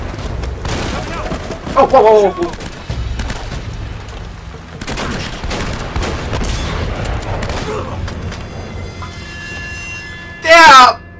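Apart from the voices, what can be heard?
shotgun shots in video game Uncharted: Drake's Fortune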